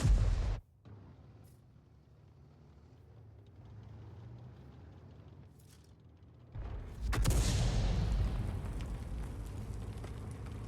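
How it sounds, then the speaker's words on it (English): Artillery fire in a tank video game: a loud boom at the start, a long quieter rumbling stretch, then a second heavy blast followed by a sustained roaring decay, with no talk. "the enemy Arty are alert because they just went after our Heshbon and our Gorilla 15"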